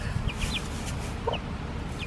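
A few soft, short clucks from two-week-old chicks, scattered and fairly quiet over a low rustling background.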